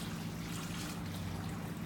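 Water trickles and drains back through a hydroponic seeding system, a faint steady liquid dribble over a low background hum.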